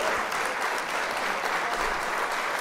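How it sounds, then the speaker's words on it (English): Applause from an audience, a steady wash of many hands clapping that holds at an even level for a few seconds, close and dense, with no talking. "Round of applause for that"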